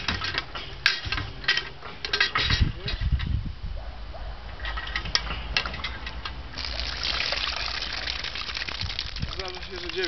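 An Abyssinian hand pump draws well water from about 8 metres into a 12-litre watering can, giving repeated creaking, clanking strokes and bursts of gushing, splashing water, with someone talking over much of it.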